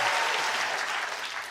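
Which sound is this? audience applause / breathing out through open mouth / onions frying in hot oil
audience applause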